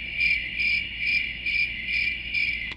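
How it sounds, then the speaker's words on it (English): Insects chirping in steady pulsing bursts, a bright high trill repeating about twice a second, close and clear with no other sounds. "We hear crickets."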